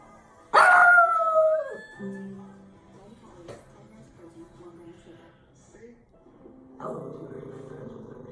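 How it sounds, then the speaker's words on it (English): A dog under a couch lets out a sudden loud howling bark, then quieter whines and yips follow with some talking mixed in, ending in another drawn-out howl. "barking at a ball that is no longer under the couch."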